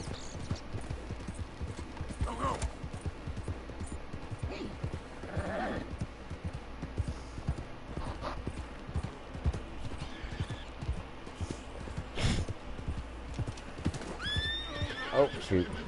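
A horse in the Red Dead Redemption 2 video game whinnies and neighs several times over a steady clip-clop of hooves, with the wild west soundscape continuing around it.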